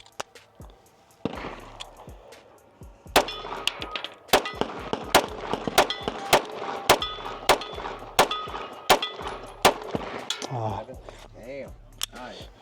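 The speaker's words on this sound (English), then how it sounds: "I'm gonna shoot now so you guys can see." Repeated pistol shots from a Glock 17 with a ported, cut slide and a red-dot optic, about a dozen sharp, loud cracks fired in fairly quick succession, with brief speech at the end.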